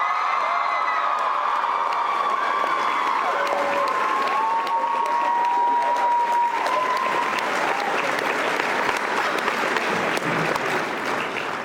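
A large convention crowd applauds and cheers loudly for a guest's arrival, with whoops and shouts rising over dense, sustained clapping that gradually thins toward the end.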